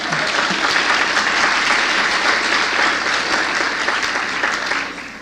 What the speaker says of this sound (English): that is an applause line, if you don't mind